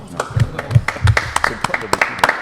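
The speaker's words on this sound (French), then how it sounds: "Je vous applaudis, vous pouvez vous applaudir aussi." A few podcast guests at a heavy-truck mechanics recording applauding one another, scattered individual claps close to the microphone, uneven and sparse, mixed with speech.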